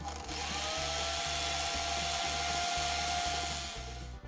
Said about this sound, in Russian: Ну и затем более мелкой наждачкой